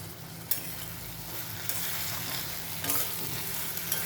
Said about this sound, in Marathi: त्याला चांगले परतून घेते